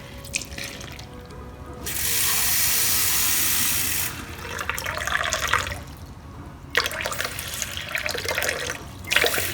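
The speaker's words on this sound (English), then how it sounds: "I'm going to add cold water to this to make a smooth paste." Cold water pours from a tap into rice flour for papad paste, a steady rushing stream for about two seconds followed by dripping, splashing and clinking of the bowl.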